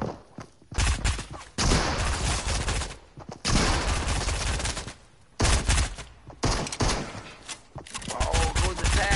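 Rapid gunfire and explosive bursts from an enemy spamming rockets in a video game, loud and dense, coming in long volleys with short gaps between them.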